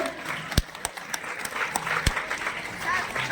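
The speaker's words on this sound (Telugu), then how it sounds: "మరి చక్కటి స్కిట్ ప్రదర్శించినటువంటి విద్యార్థులకి ఒకసారి గట్టిగా క్లాప్స్ కొట్టండి" Students' skit at a school annual day celebration draws clapping from the audience, a loose, moderate patter with a few sharp, distinct claps standing out, and a voice speaking over it.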